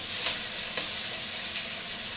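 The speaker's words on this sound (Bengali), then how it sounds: "পেঁয়াজ গ্রেট করাটা দেওয়ার পরে দেখুন একটু ভাজা ভাজা হয়ে গেছে।" Soft, constant sizzling of grated onion frying in a pan, with a couple of light clicks from stirring, heard alone.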